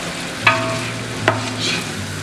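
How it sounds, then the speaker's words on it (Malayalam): Chicken with coriander leaves sautéing in a pan over a medium flame, a steady soft sizzle with two brief clinks of a spoon stirring against the pan. "മീഡിയം ഫ്ലെയിമിൽ വെച്ചിട്ട് വേണം നമ്മളിത് വഴറ്റിയെടുക്കാൻ."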